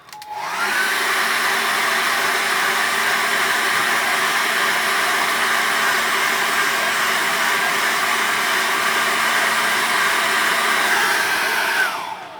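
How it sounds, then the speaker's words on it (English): A hair dryer blows hot air over wet paint, switching on, running loudly at a steady whooshing pitch for about eleven seconds, then winding down. "Let's get the hairdryer on that quite quickly."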